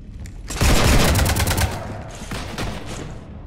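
Loud automatic gunfire aboard the Normandy starship in Mass Effect 3: a fierce burst of shots with a heavy boom that tapers off, then scattered quieter shots follow.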